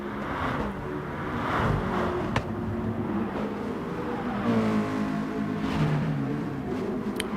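Nissan GT-R NISMO race cars roar around the tight Sardegna track in GT Sport, engines rising and falling in pitch as they accelerate and sweep past, a continuous close racing drone with no talk.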